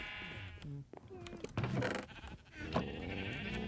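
Sheep bleating in Minecraft near a sheep pen, several short game bleats mixed with other in-game sounds and players talking over them.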